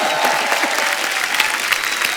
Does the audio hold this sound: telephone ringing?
no